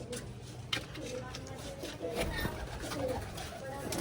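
Soft cooing of fancy pigeons repeats in the background on a farm, low and murmuring, with some people talking faintly nearby.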